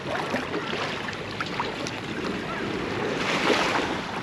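Sea waves wash onto a Thai shore with very clear water, a soft rolling surf under gusts of wind buffeting the microphone, with no one talking.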